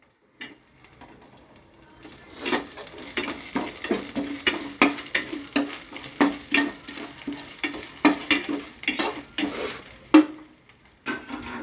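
Steady sizzling in a hot pan with repeated scraping strokes of a spoon stirring, sautéing slit green chillies for a fish curry, continuous for several seconds with no talking.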